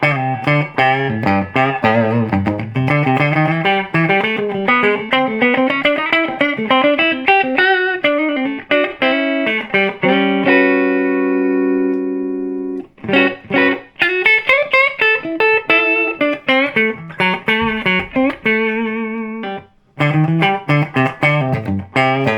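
An electric guitar played through a serviced, modded single-ended Hollywood Film Company amp, ringing loud and close in a melodic run of notes and chords with a sustained chord midway and brief pauses.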